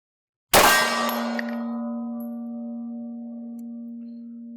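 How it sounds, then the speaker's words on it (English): A steel shooting gong struck once at the range: a sharp, loud metallic clang followed by a long, clear ringing tone that slowly fades over several seconds, heard alone. "Let the gong quit shaking here."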